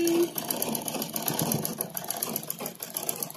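Sewing machine stitching at home, a steady rapid mechanical whir running close and moderately loud throughout, with faint talk in the background.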